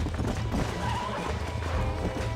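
A horse in the video game Red Dead Redemption 2 neighs loudly while its hooves clatter in a galloping rhythm, the whole passage dense and close with no clear speech.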